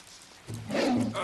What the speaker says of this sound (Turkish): kaplan sesi duyuyorum